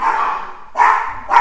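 Dogs barking at a child, close and loud, with three sharp barks and yelps in quick succession.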